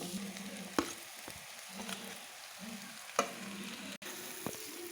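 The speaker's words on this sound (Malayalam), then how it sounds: "ഇനി നന്നായി ഇളക്കിയെടുക്കുക." A spoon stirs crushed tapioca upma with dried red chillies in a pan, giving soft repeated scraping strokes and a few sharp knocks over a quiet low sizzle, close and without talk.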